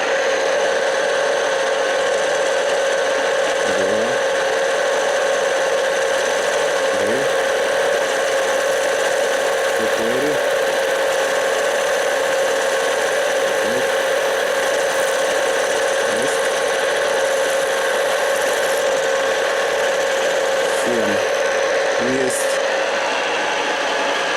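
A plastic roller for a pumpkin seeder being milled on an NGF-110Sh3 milling machine: a steady motor hum with faint, evenly spaced clicks recurring every few seconds throughout.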